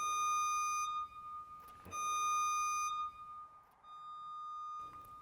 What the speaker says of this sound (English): You're going to start hearing that beeping.